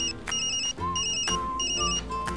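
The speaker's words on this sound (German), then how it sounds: "Ich glaube, das ist Ihr Handy, was da klingelt." An electronic phone ringtone plays a repeating melodic pattern of bright beeping tones, ringing steadily in several short bursts.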